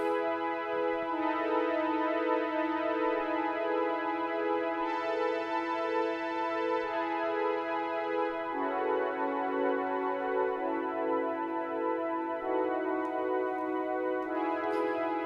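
Roland JX8P synthesizer pad preset played through PG8X, a smooth, steady sustained chord wash with slow chord changes, even and continuous, with no voices.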